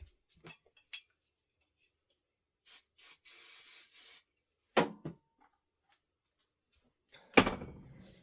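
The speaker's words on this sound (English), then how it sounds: "I'm going to give it a shot of spray from the back." An aerosol can sprays onto the back of a freestanding machine-embroidered leaf on a quilt block, a hissing burst of about a second amid scattered small clicks and handling knocks in a quiet room.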